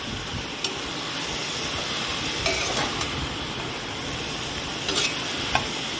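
Cut mushrooms frying in a pan for biryani, stirred with a spoon: continuous close sizzling and hiss broken by a few sharp scraping clicks of the utensil, with no speech.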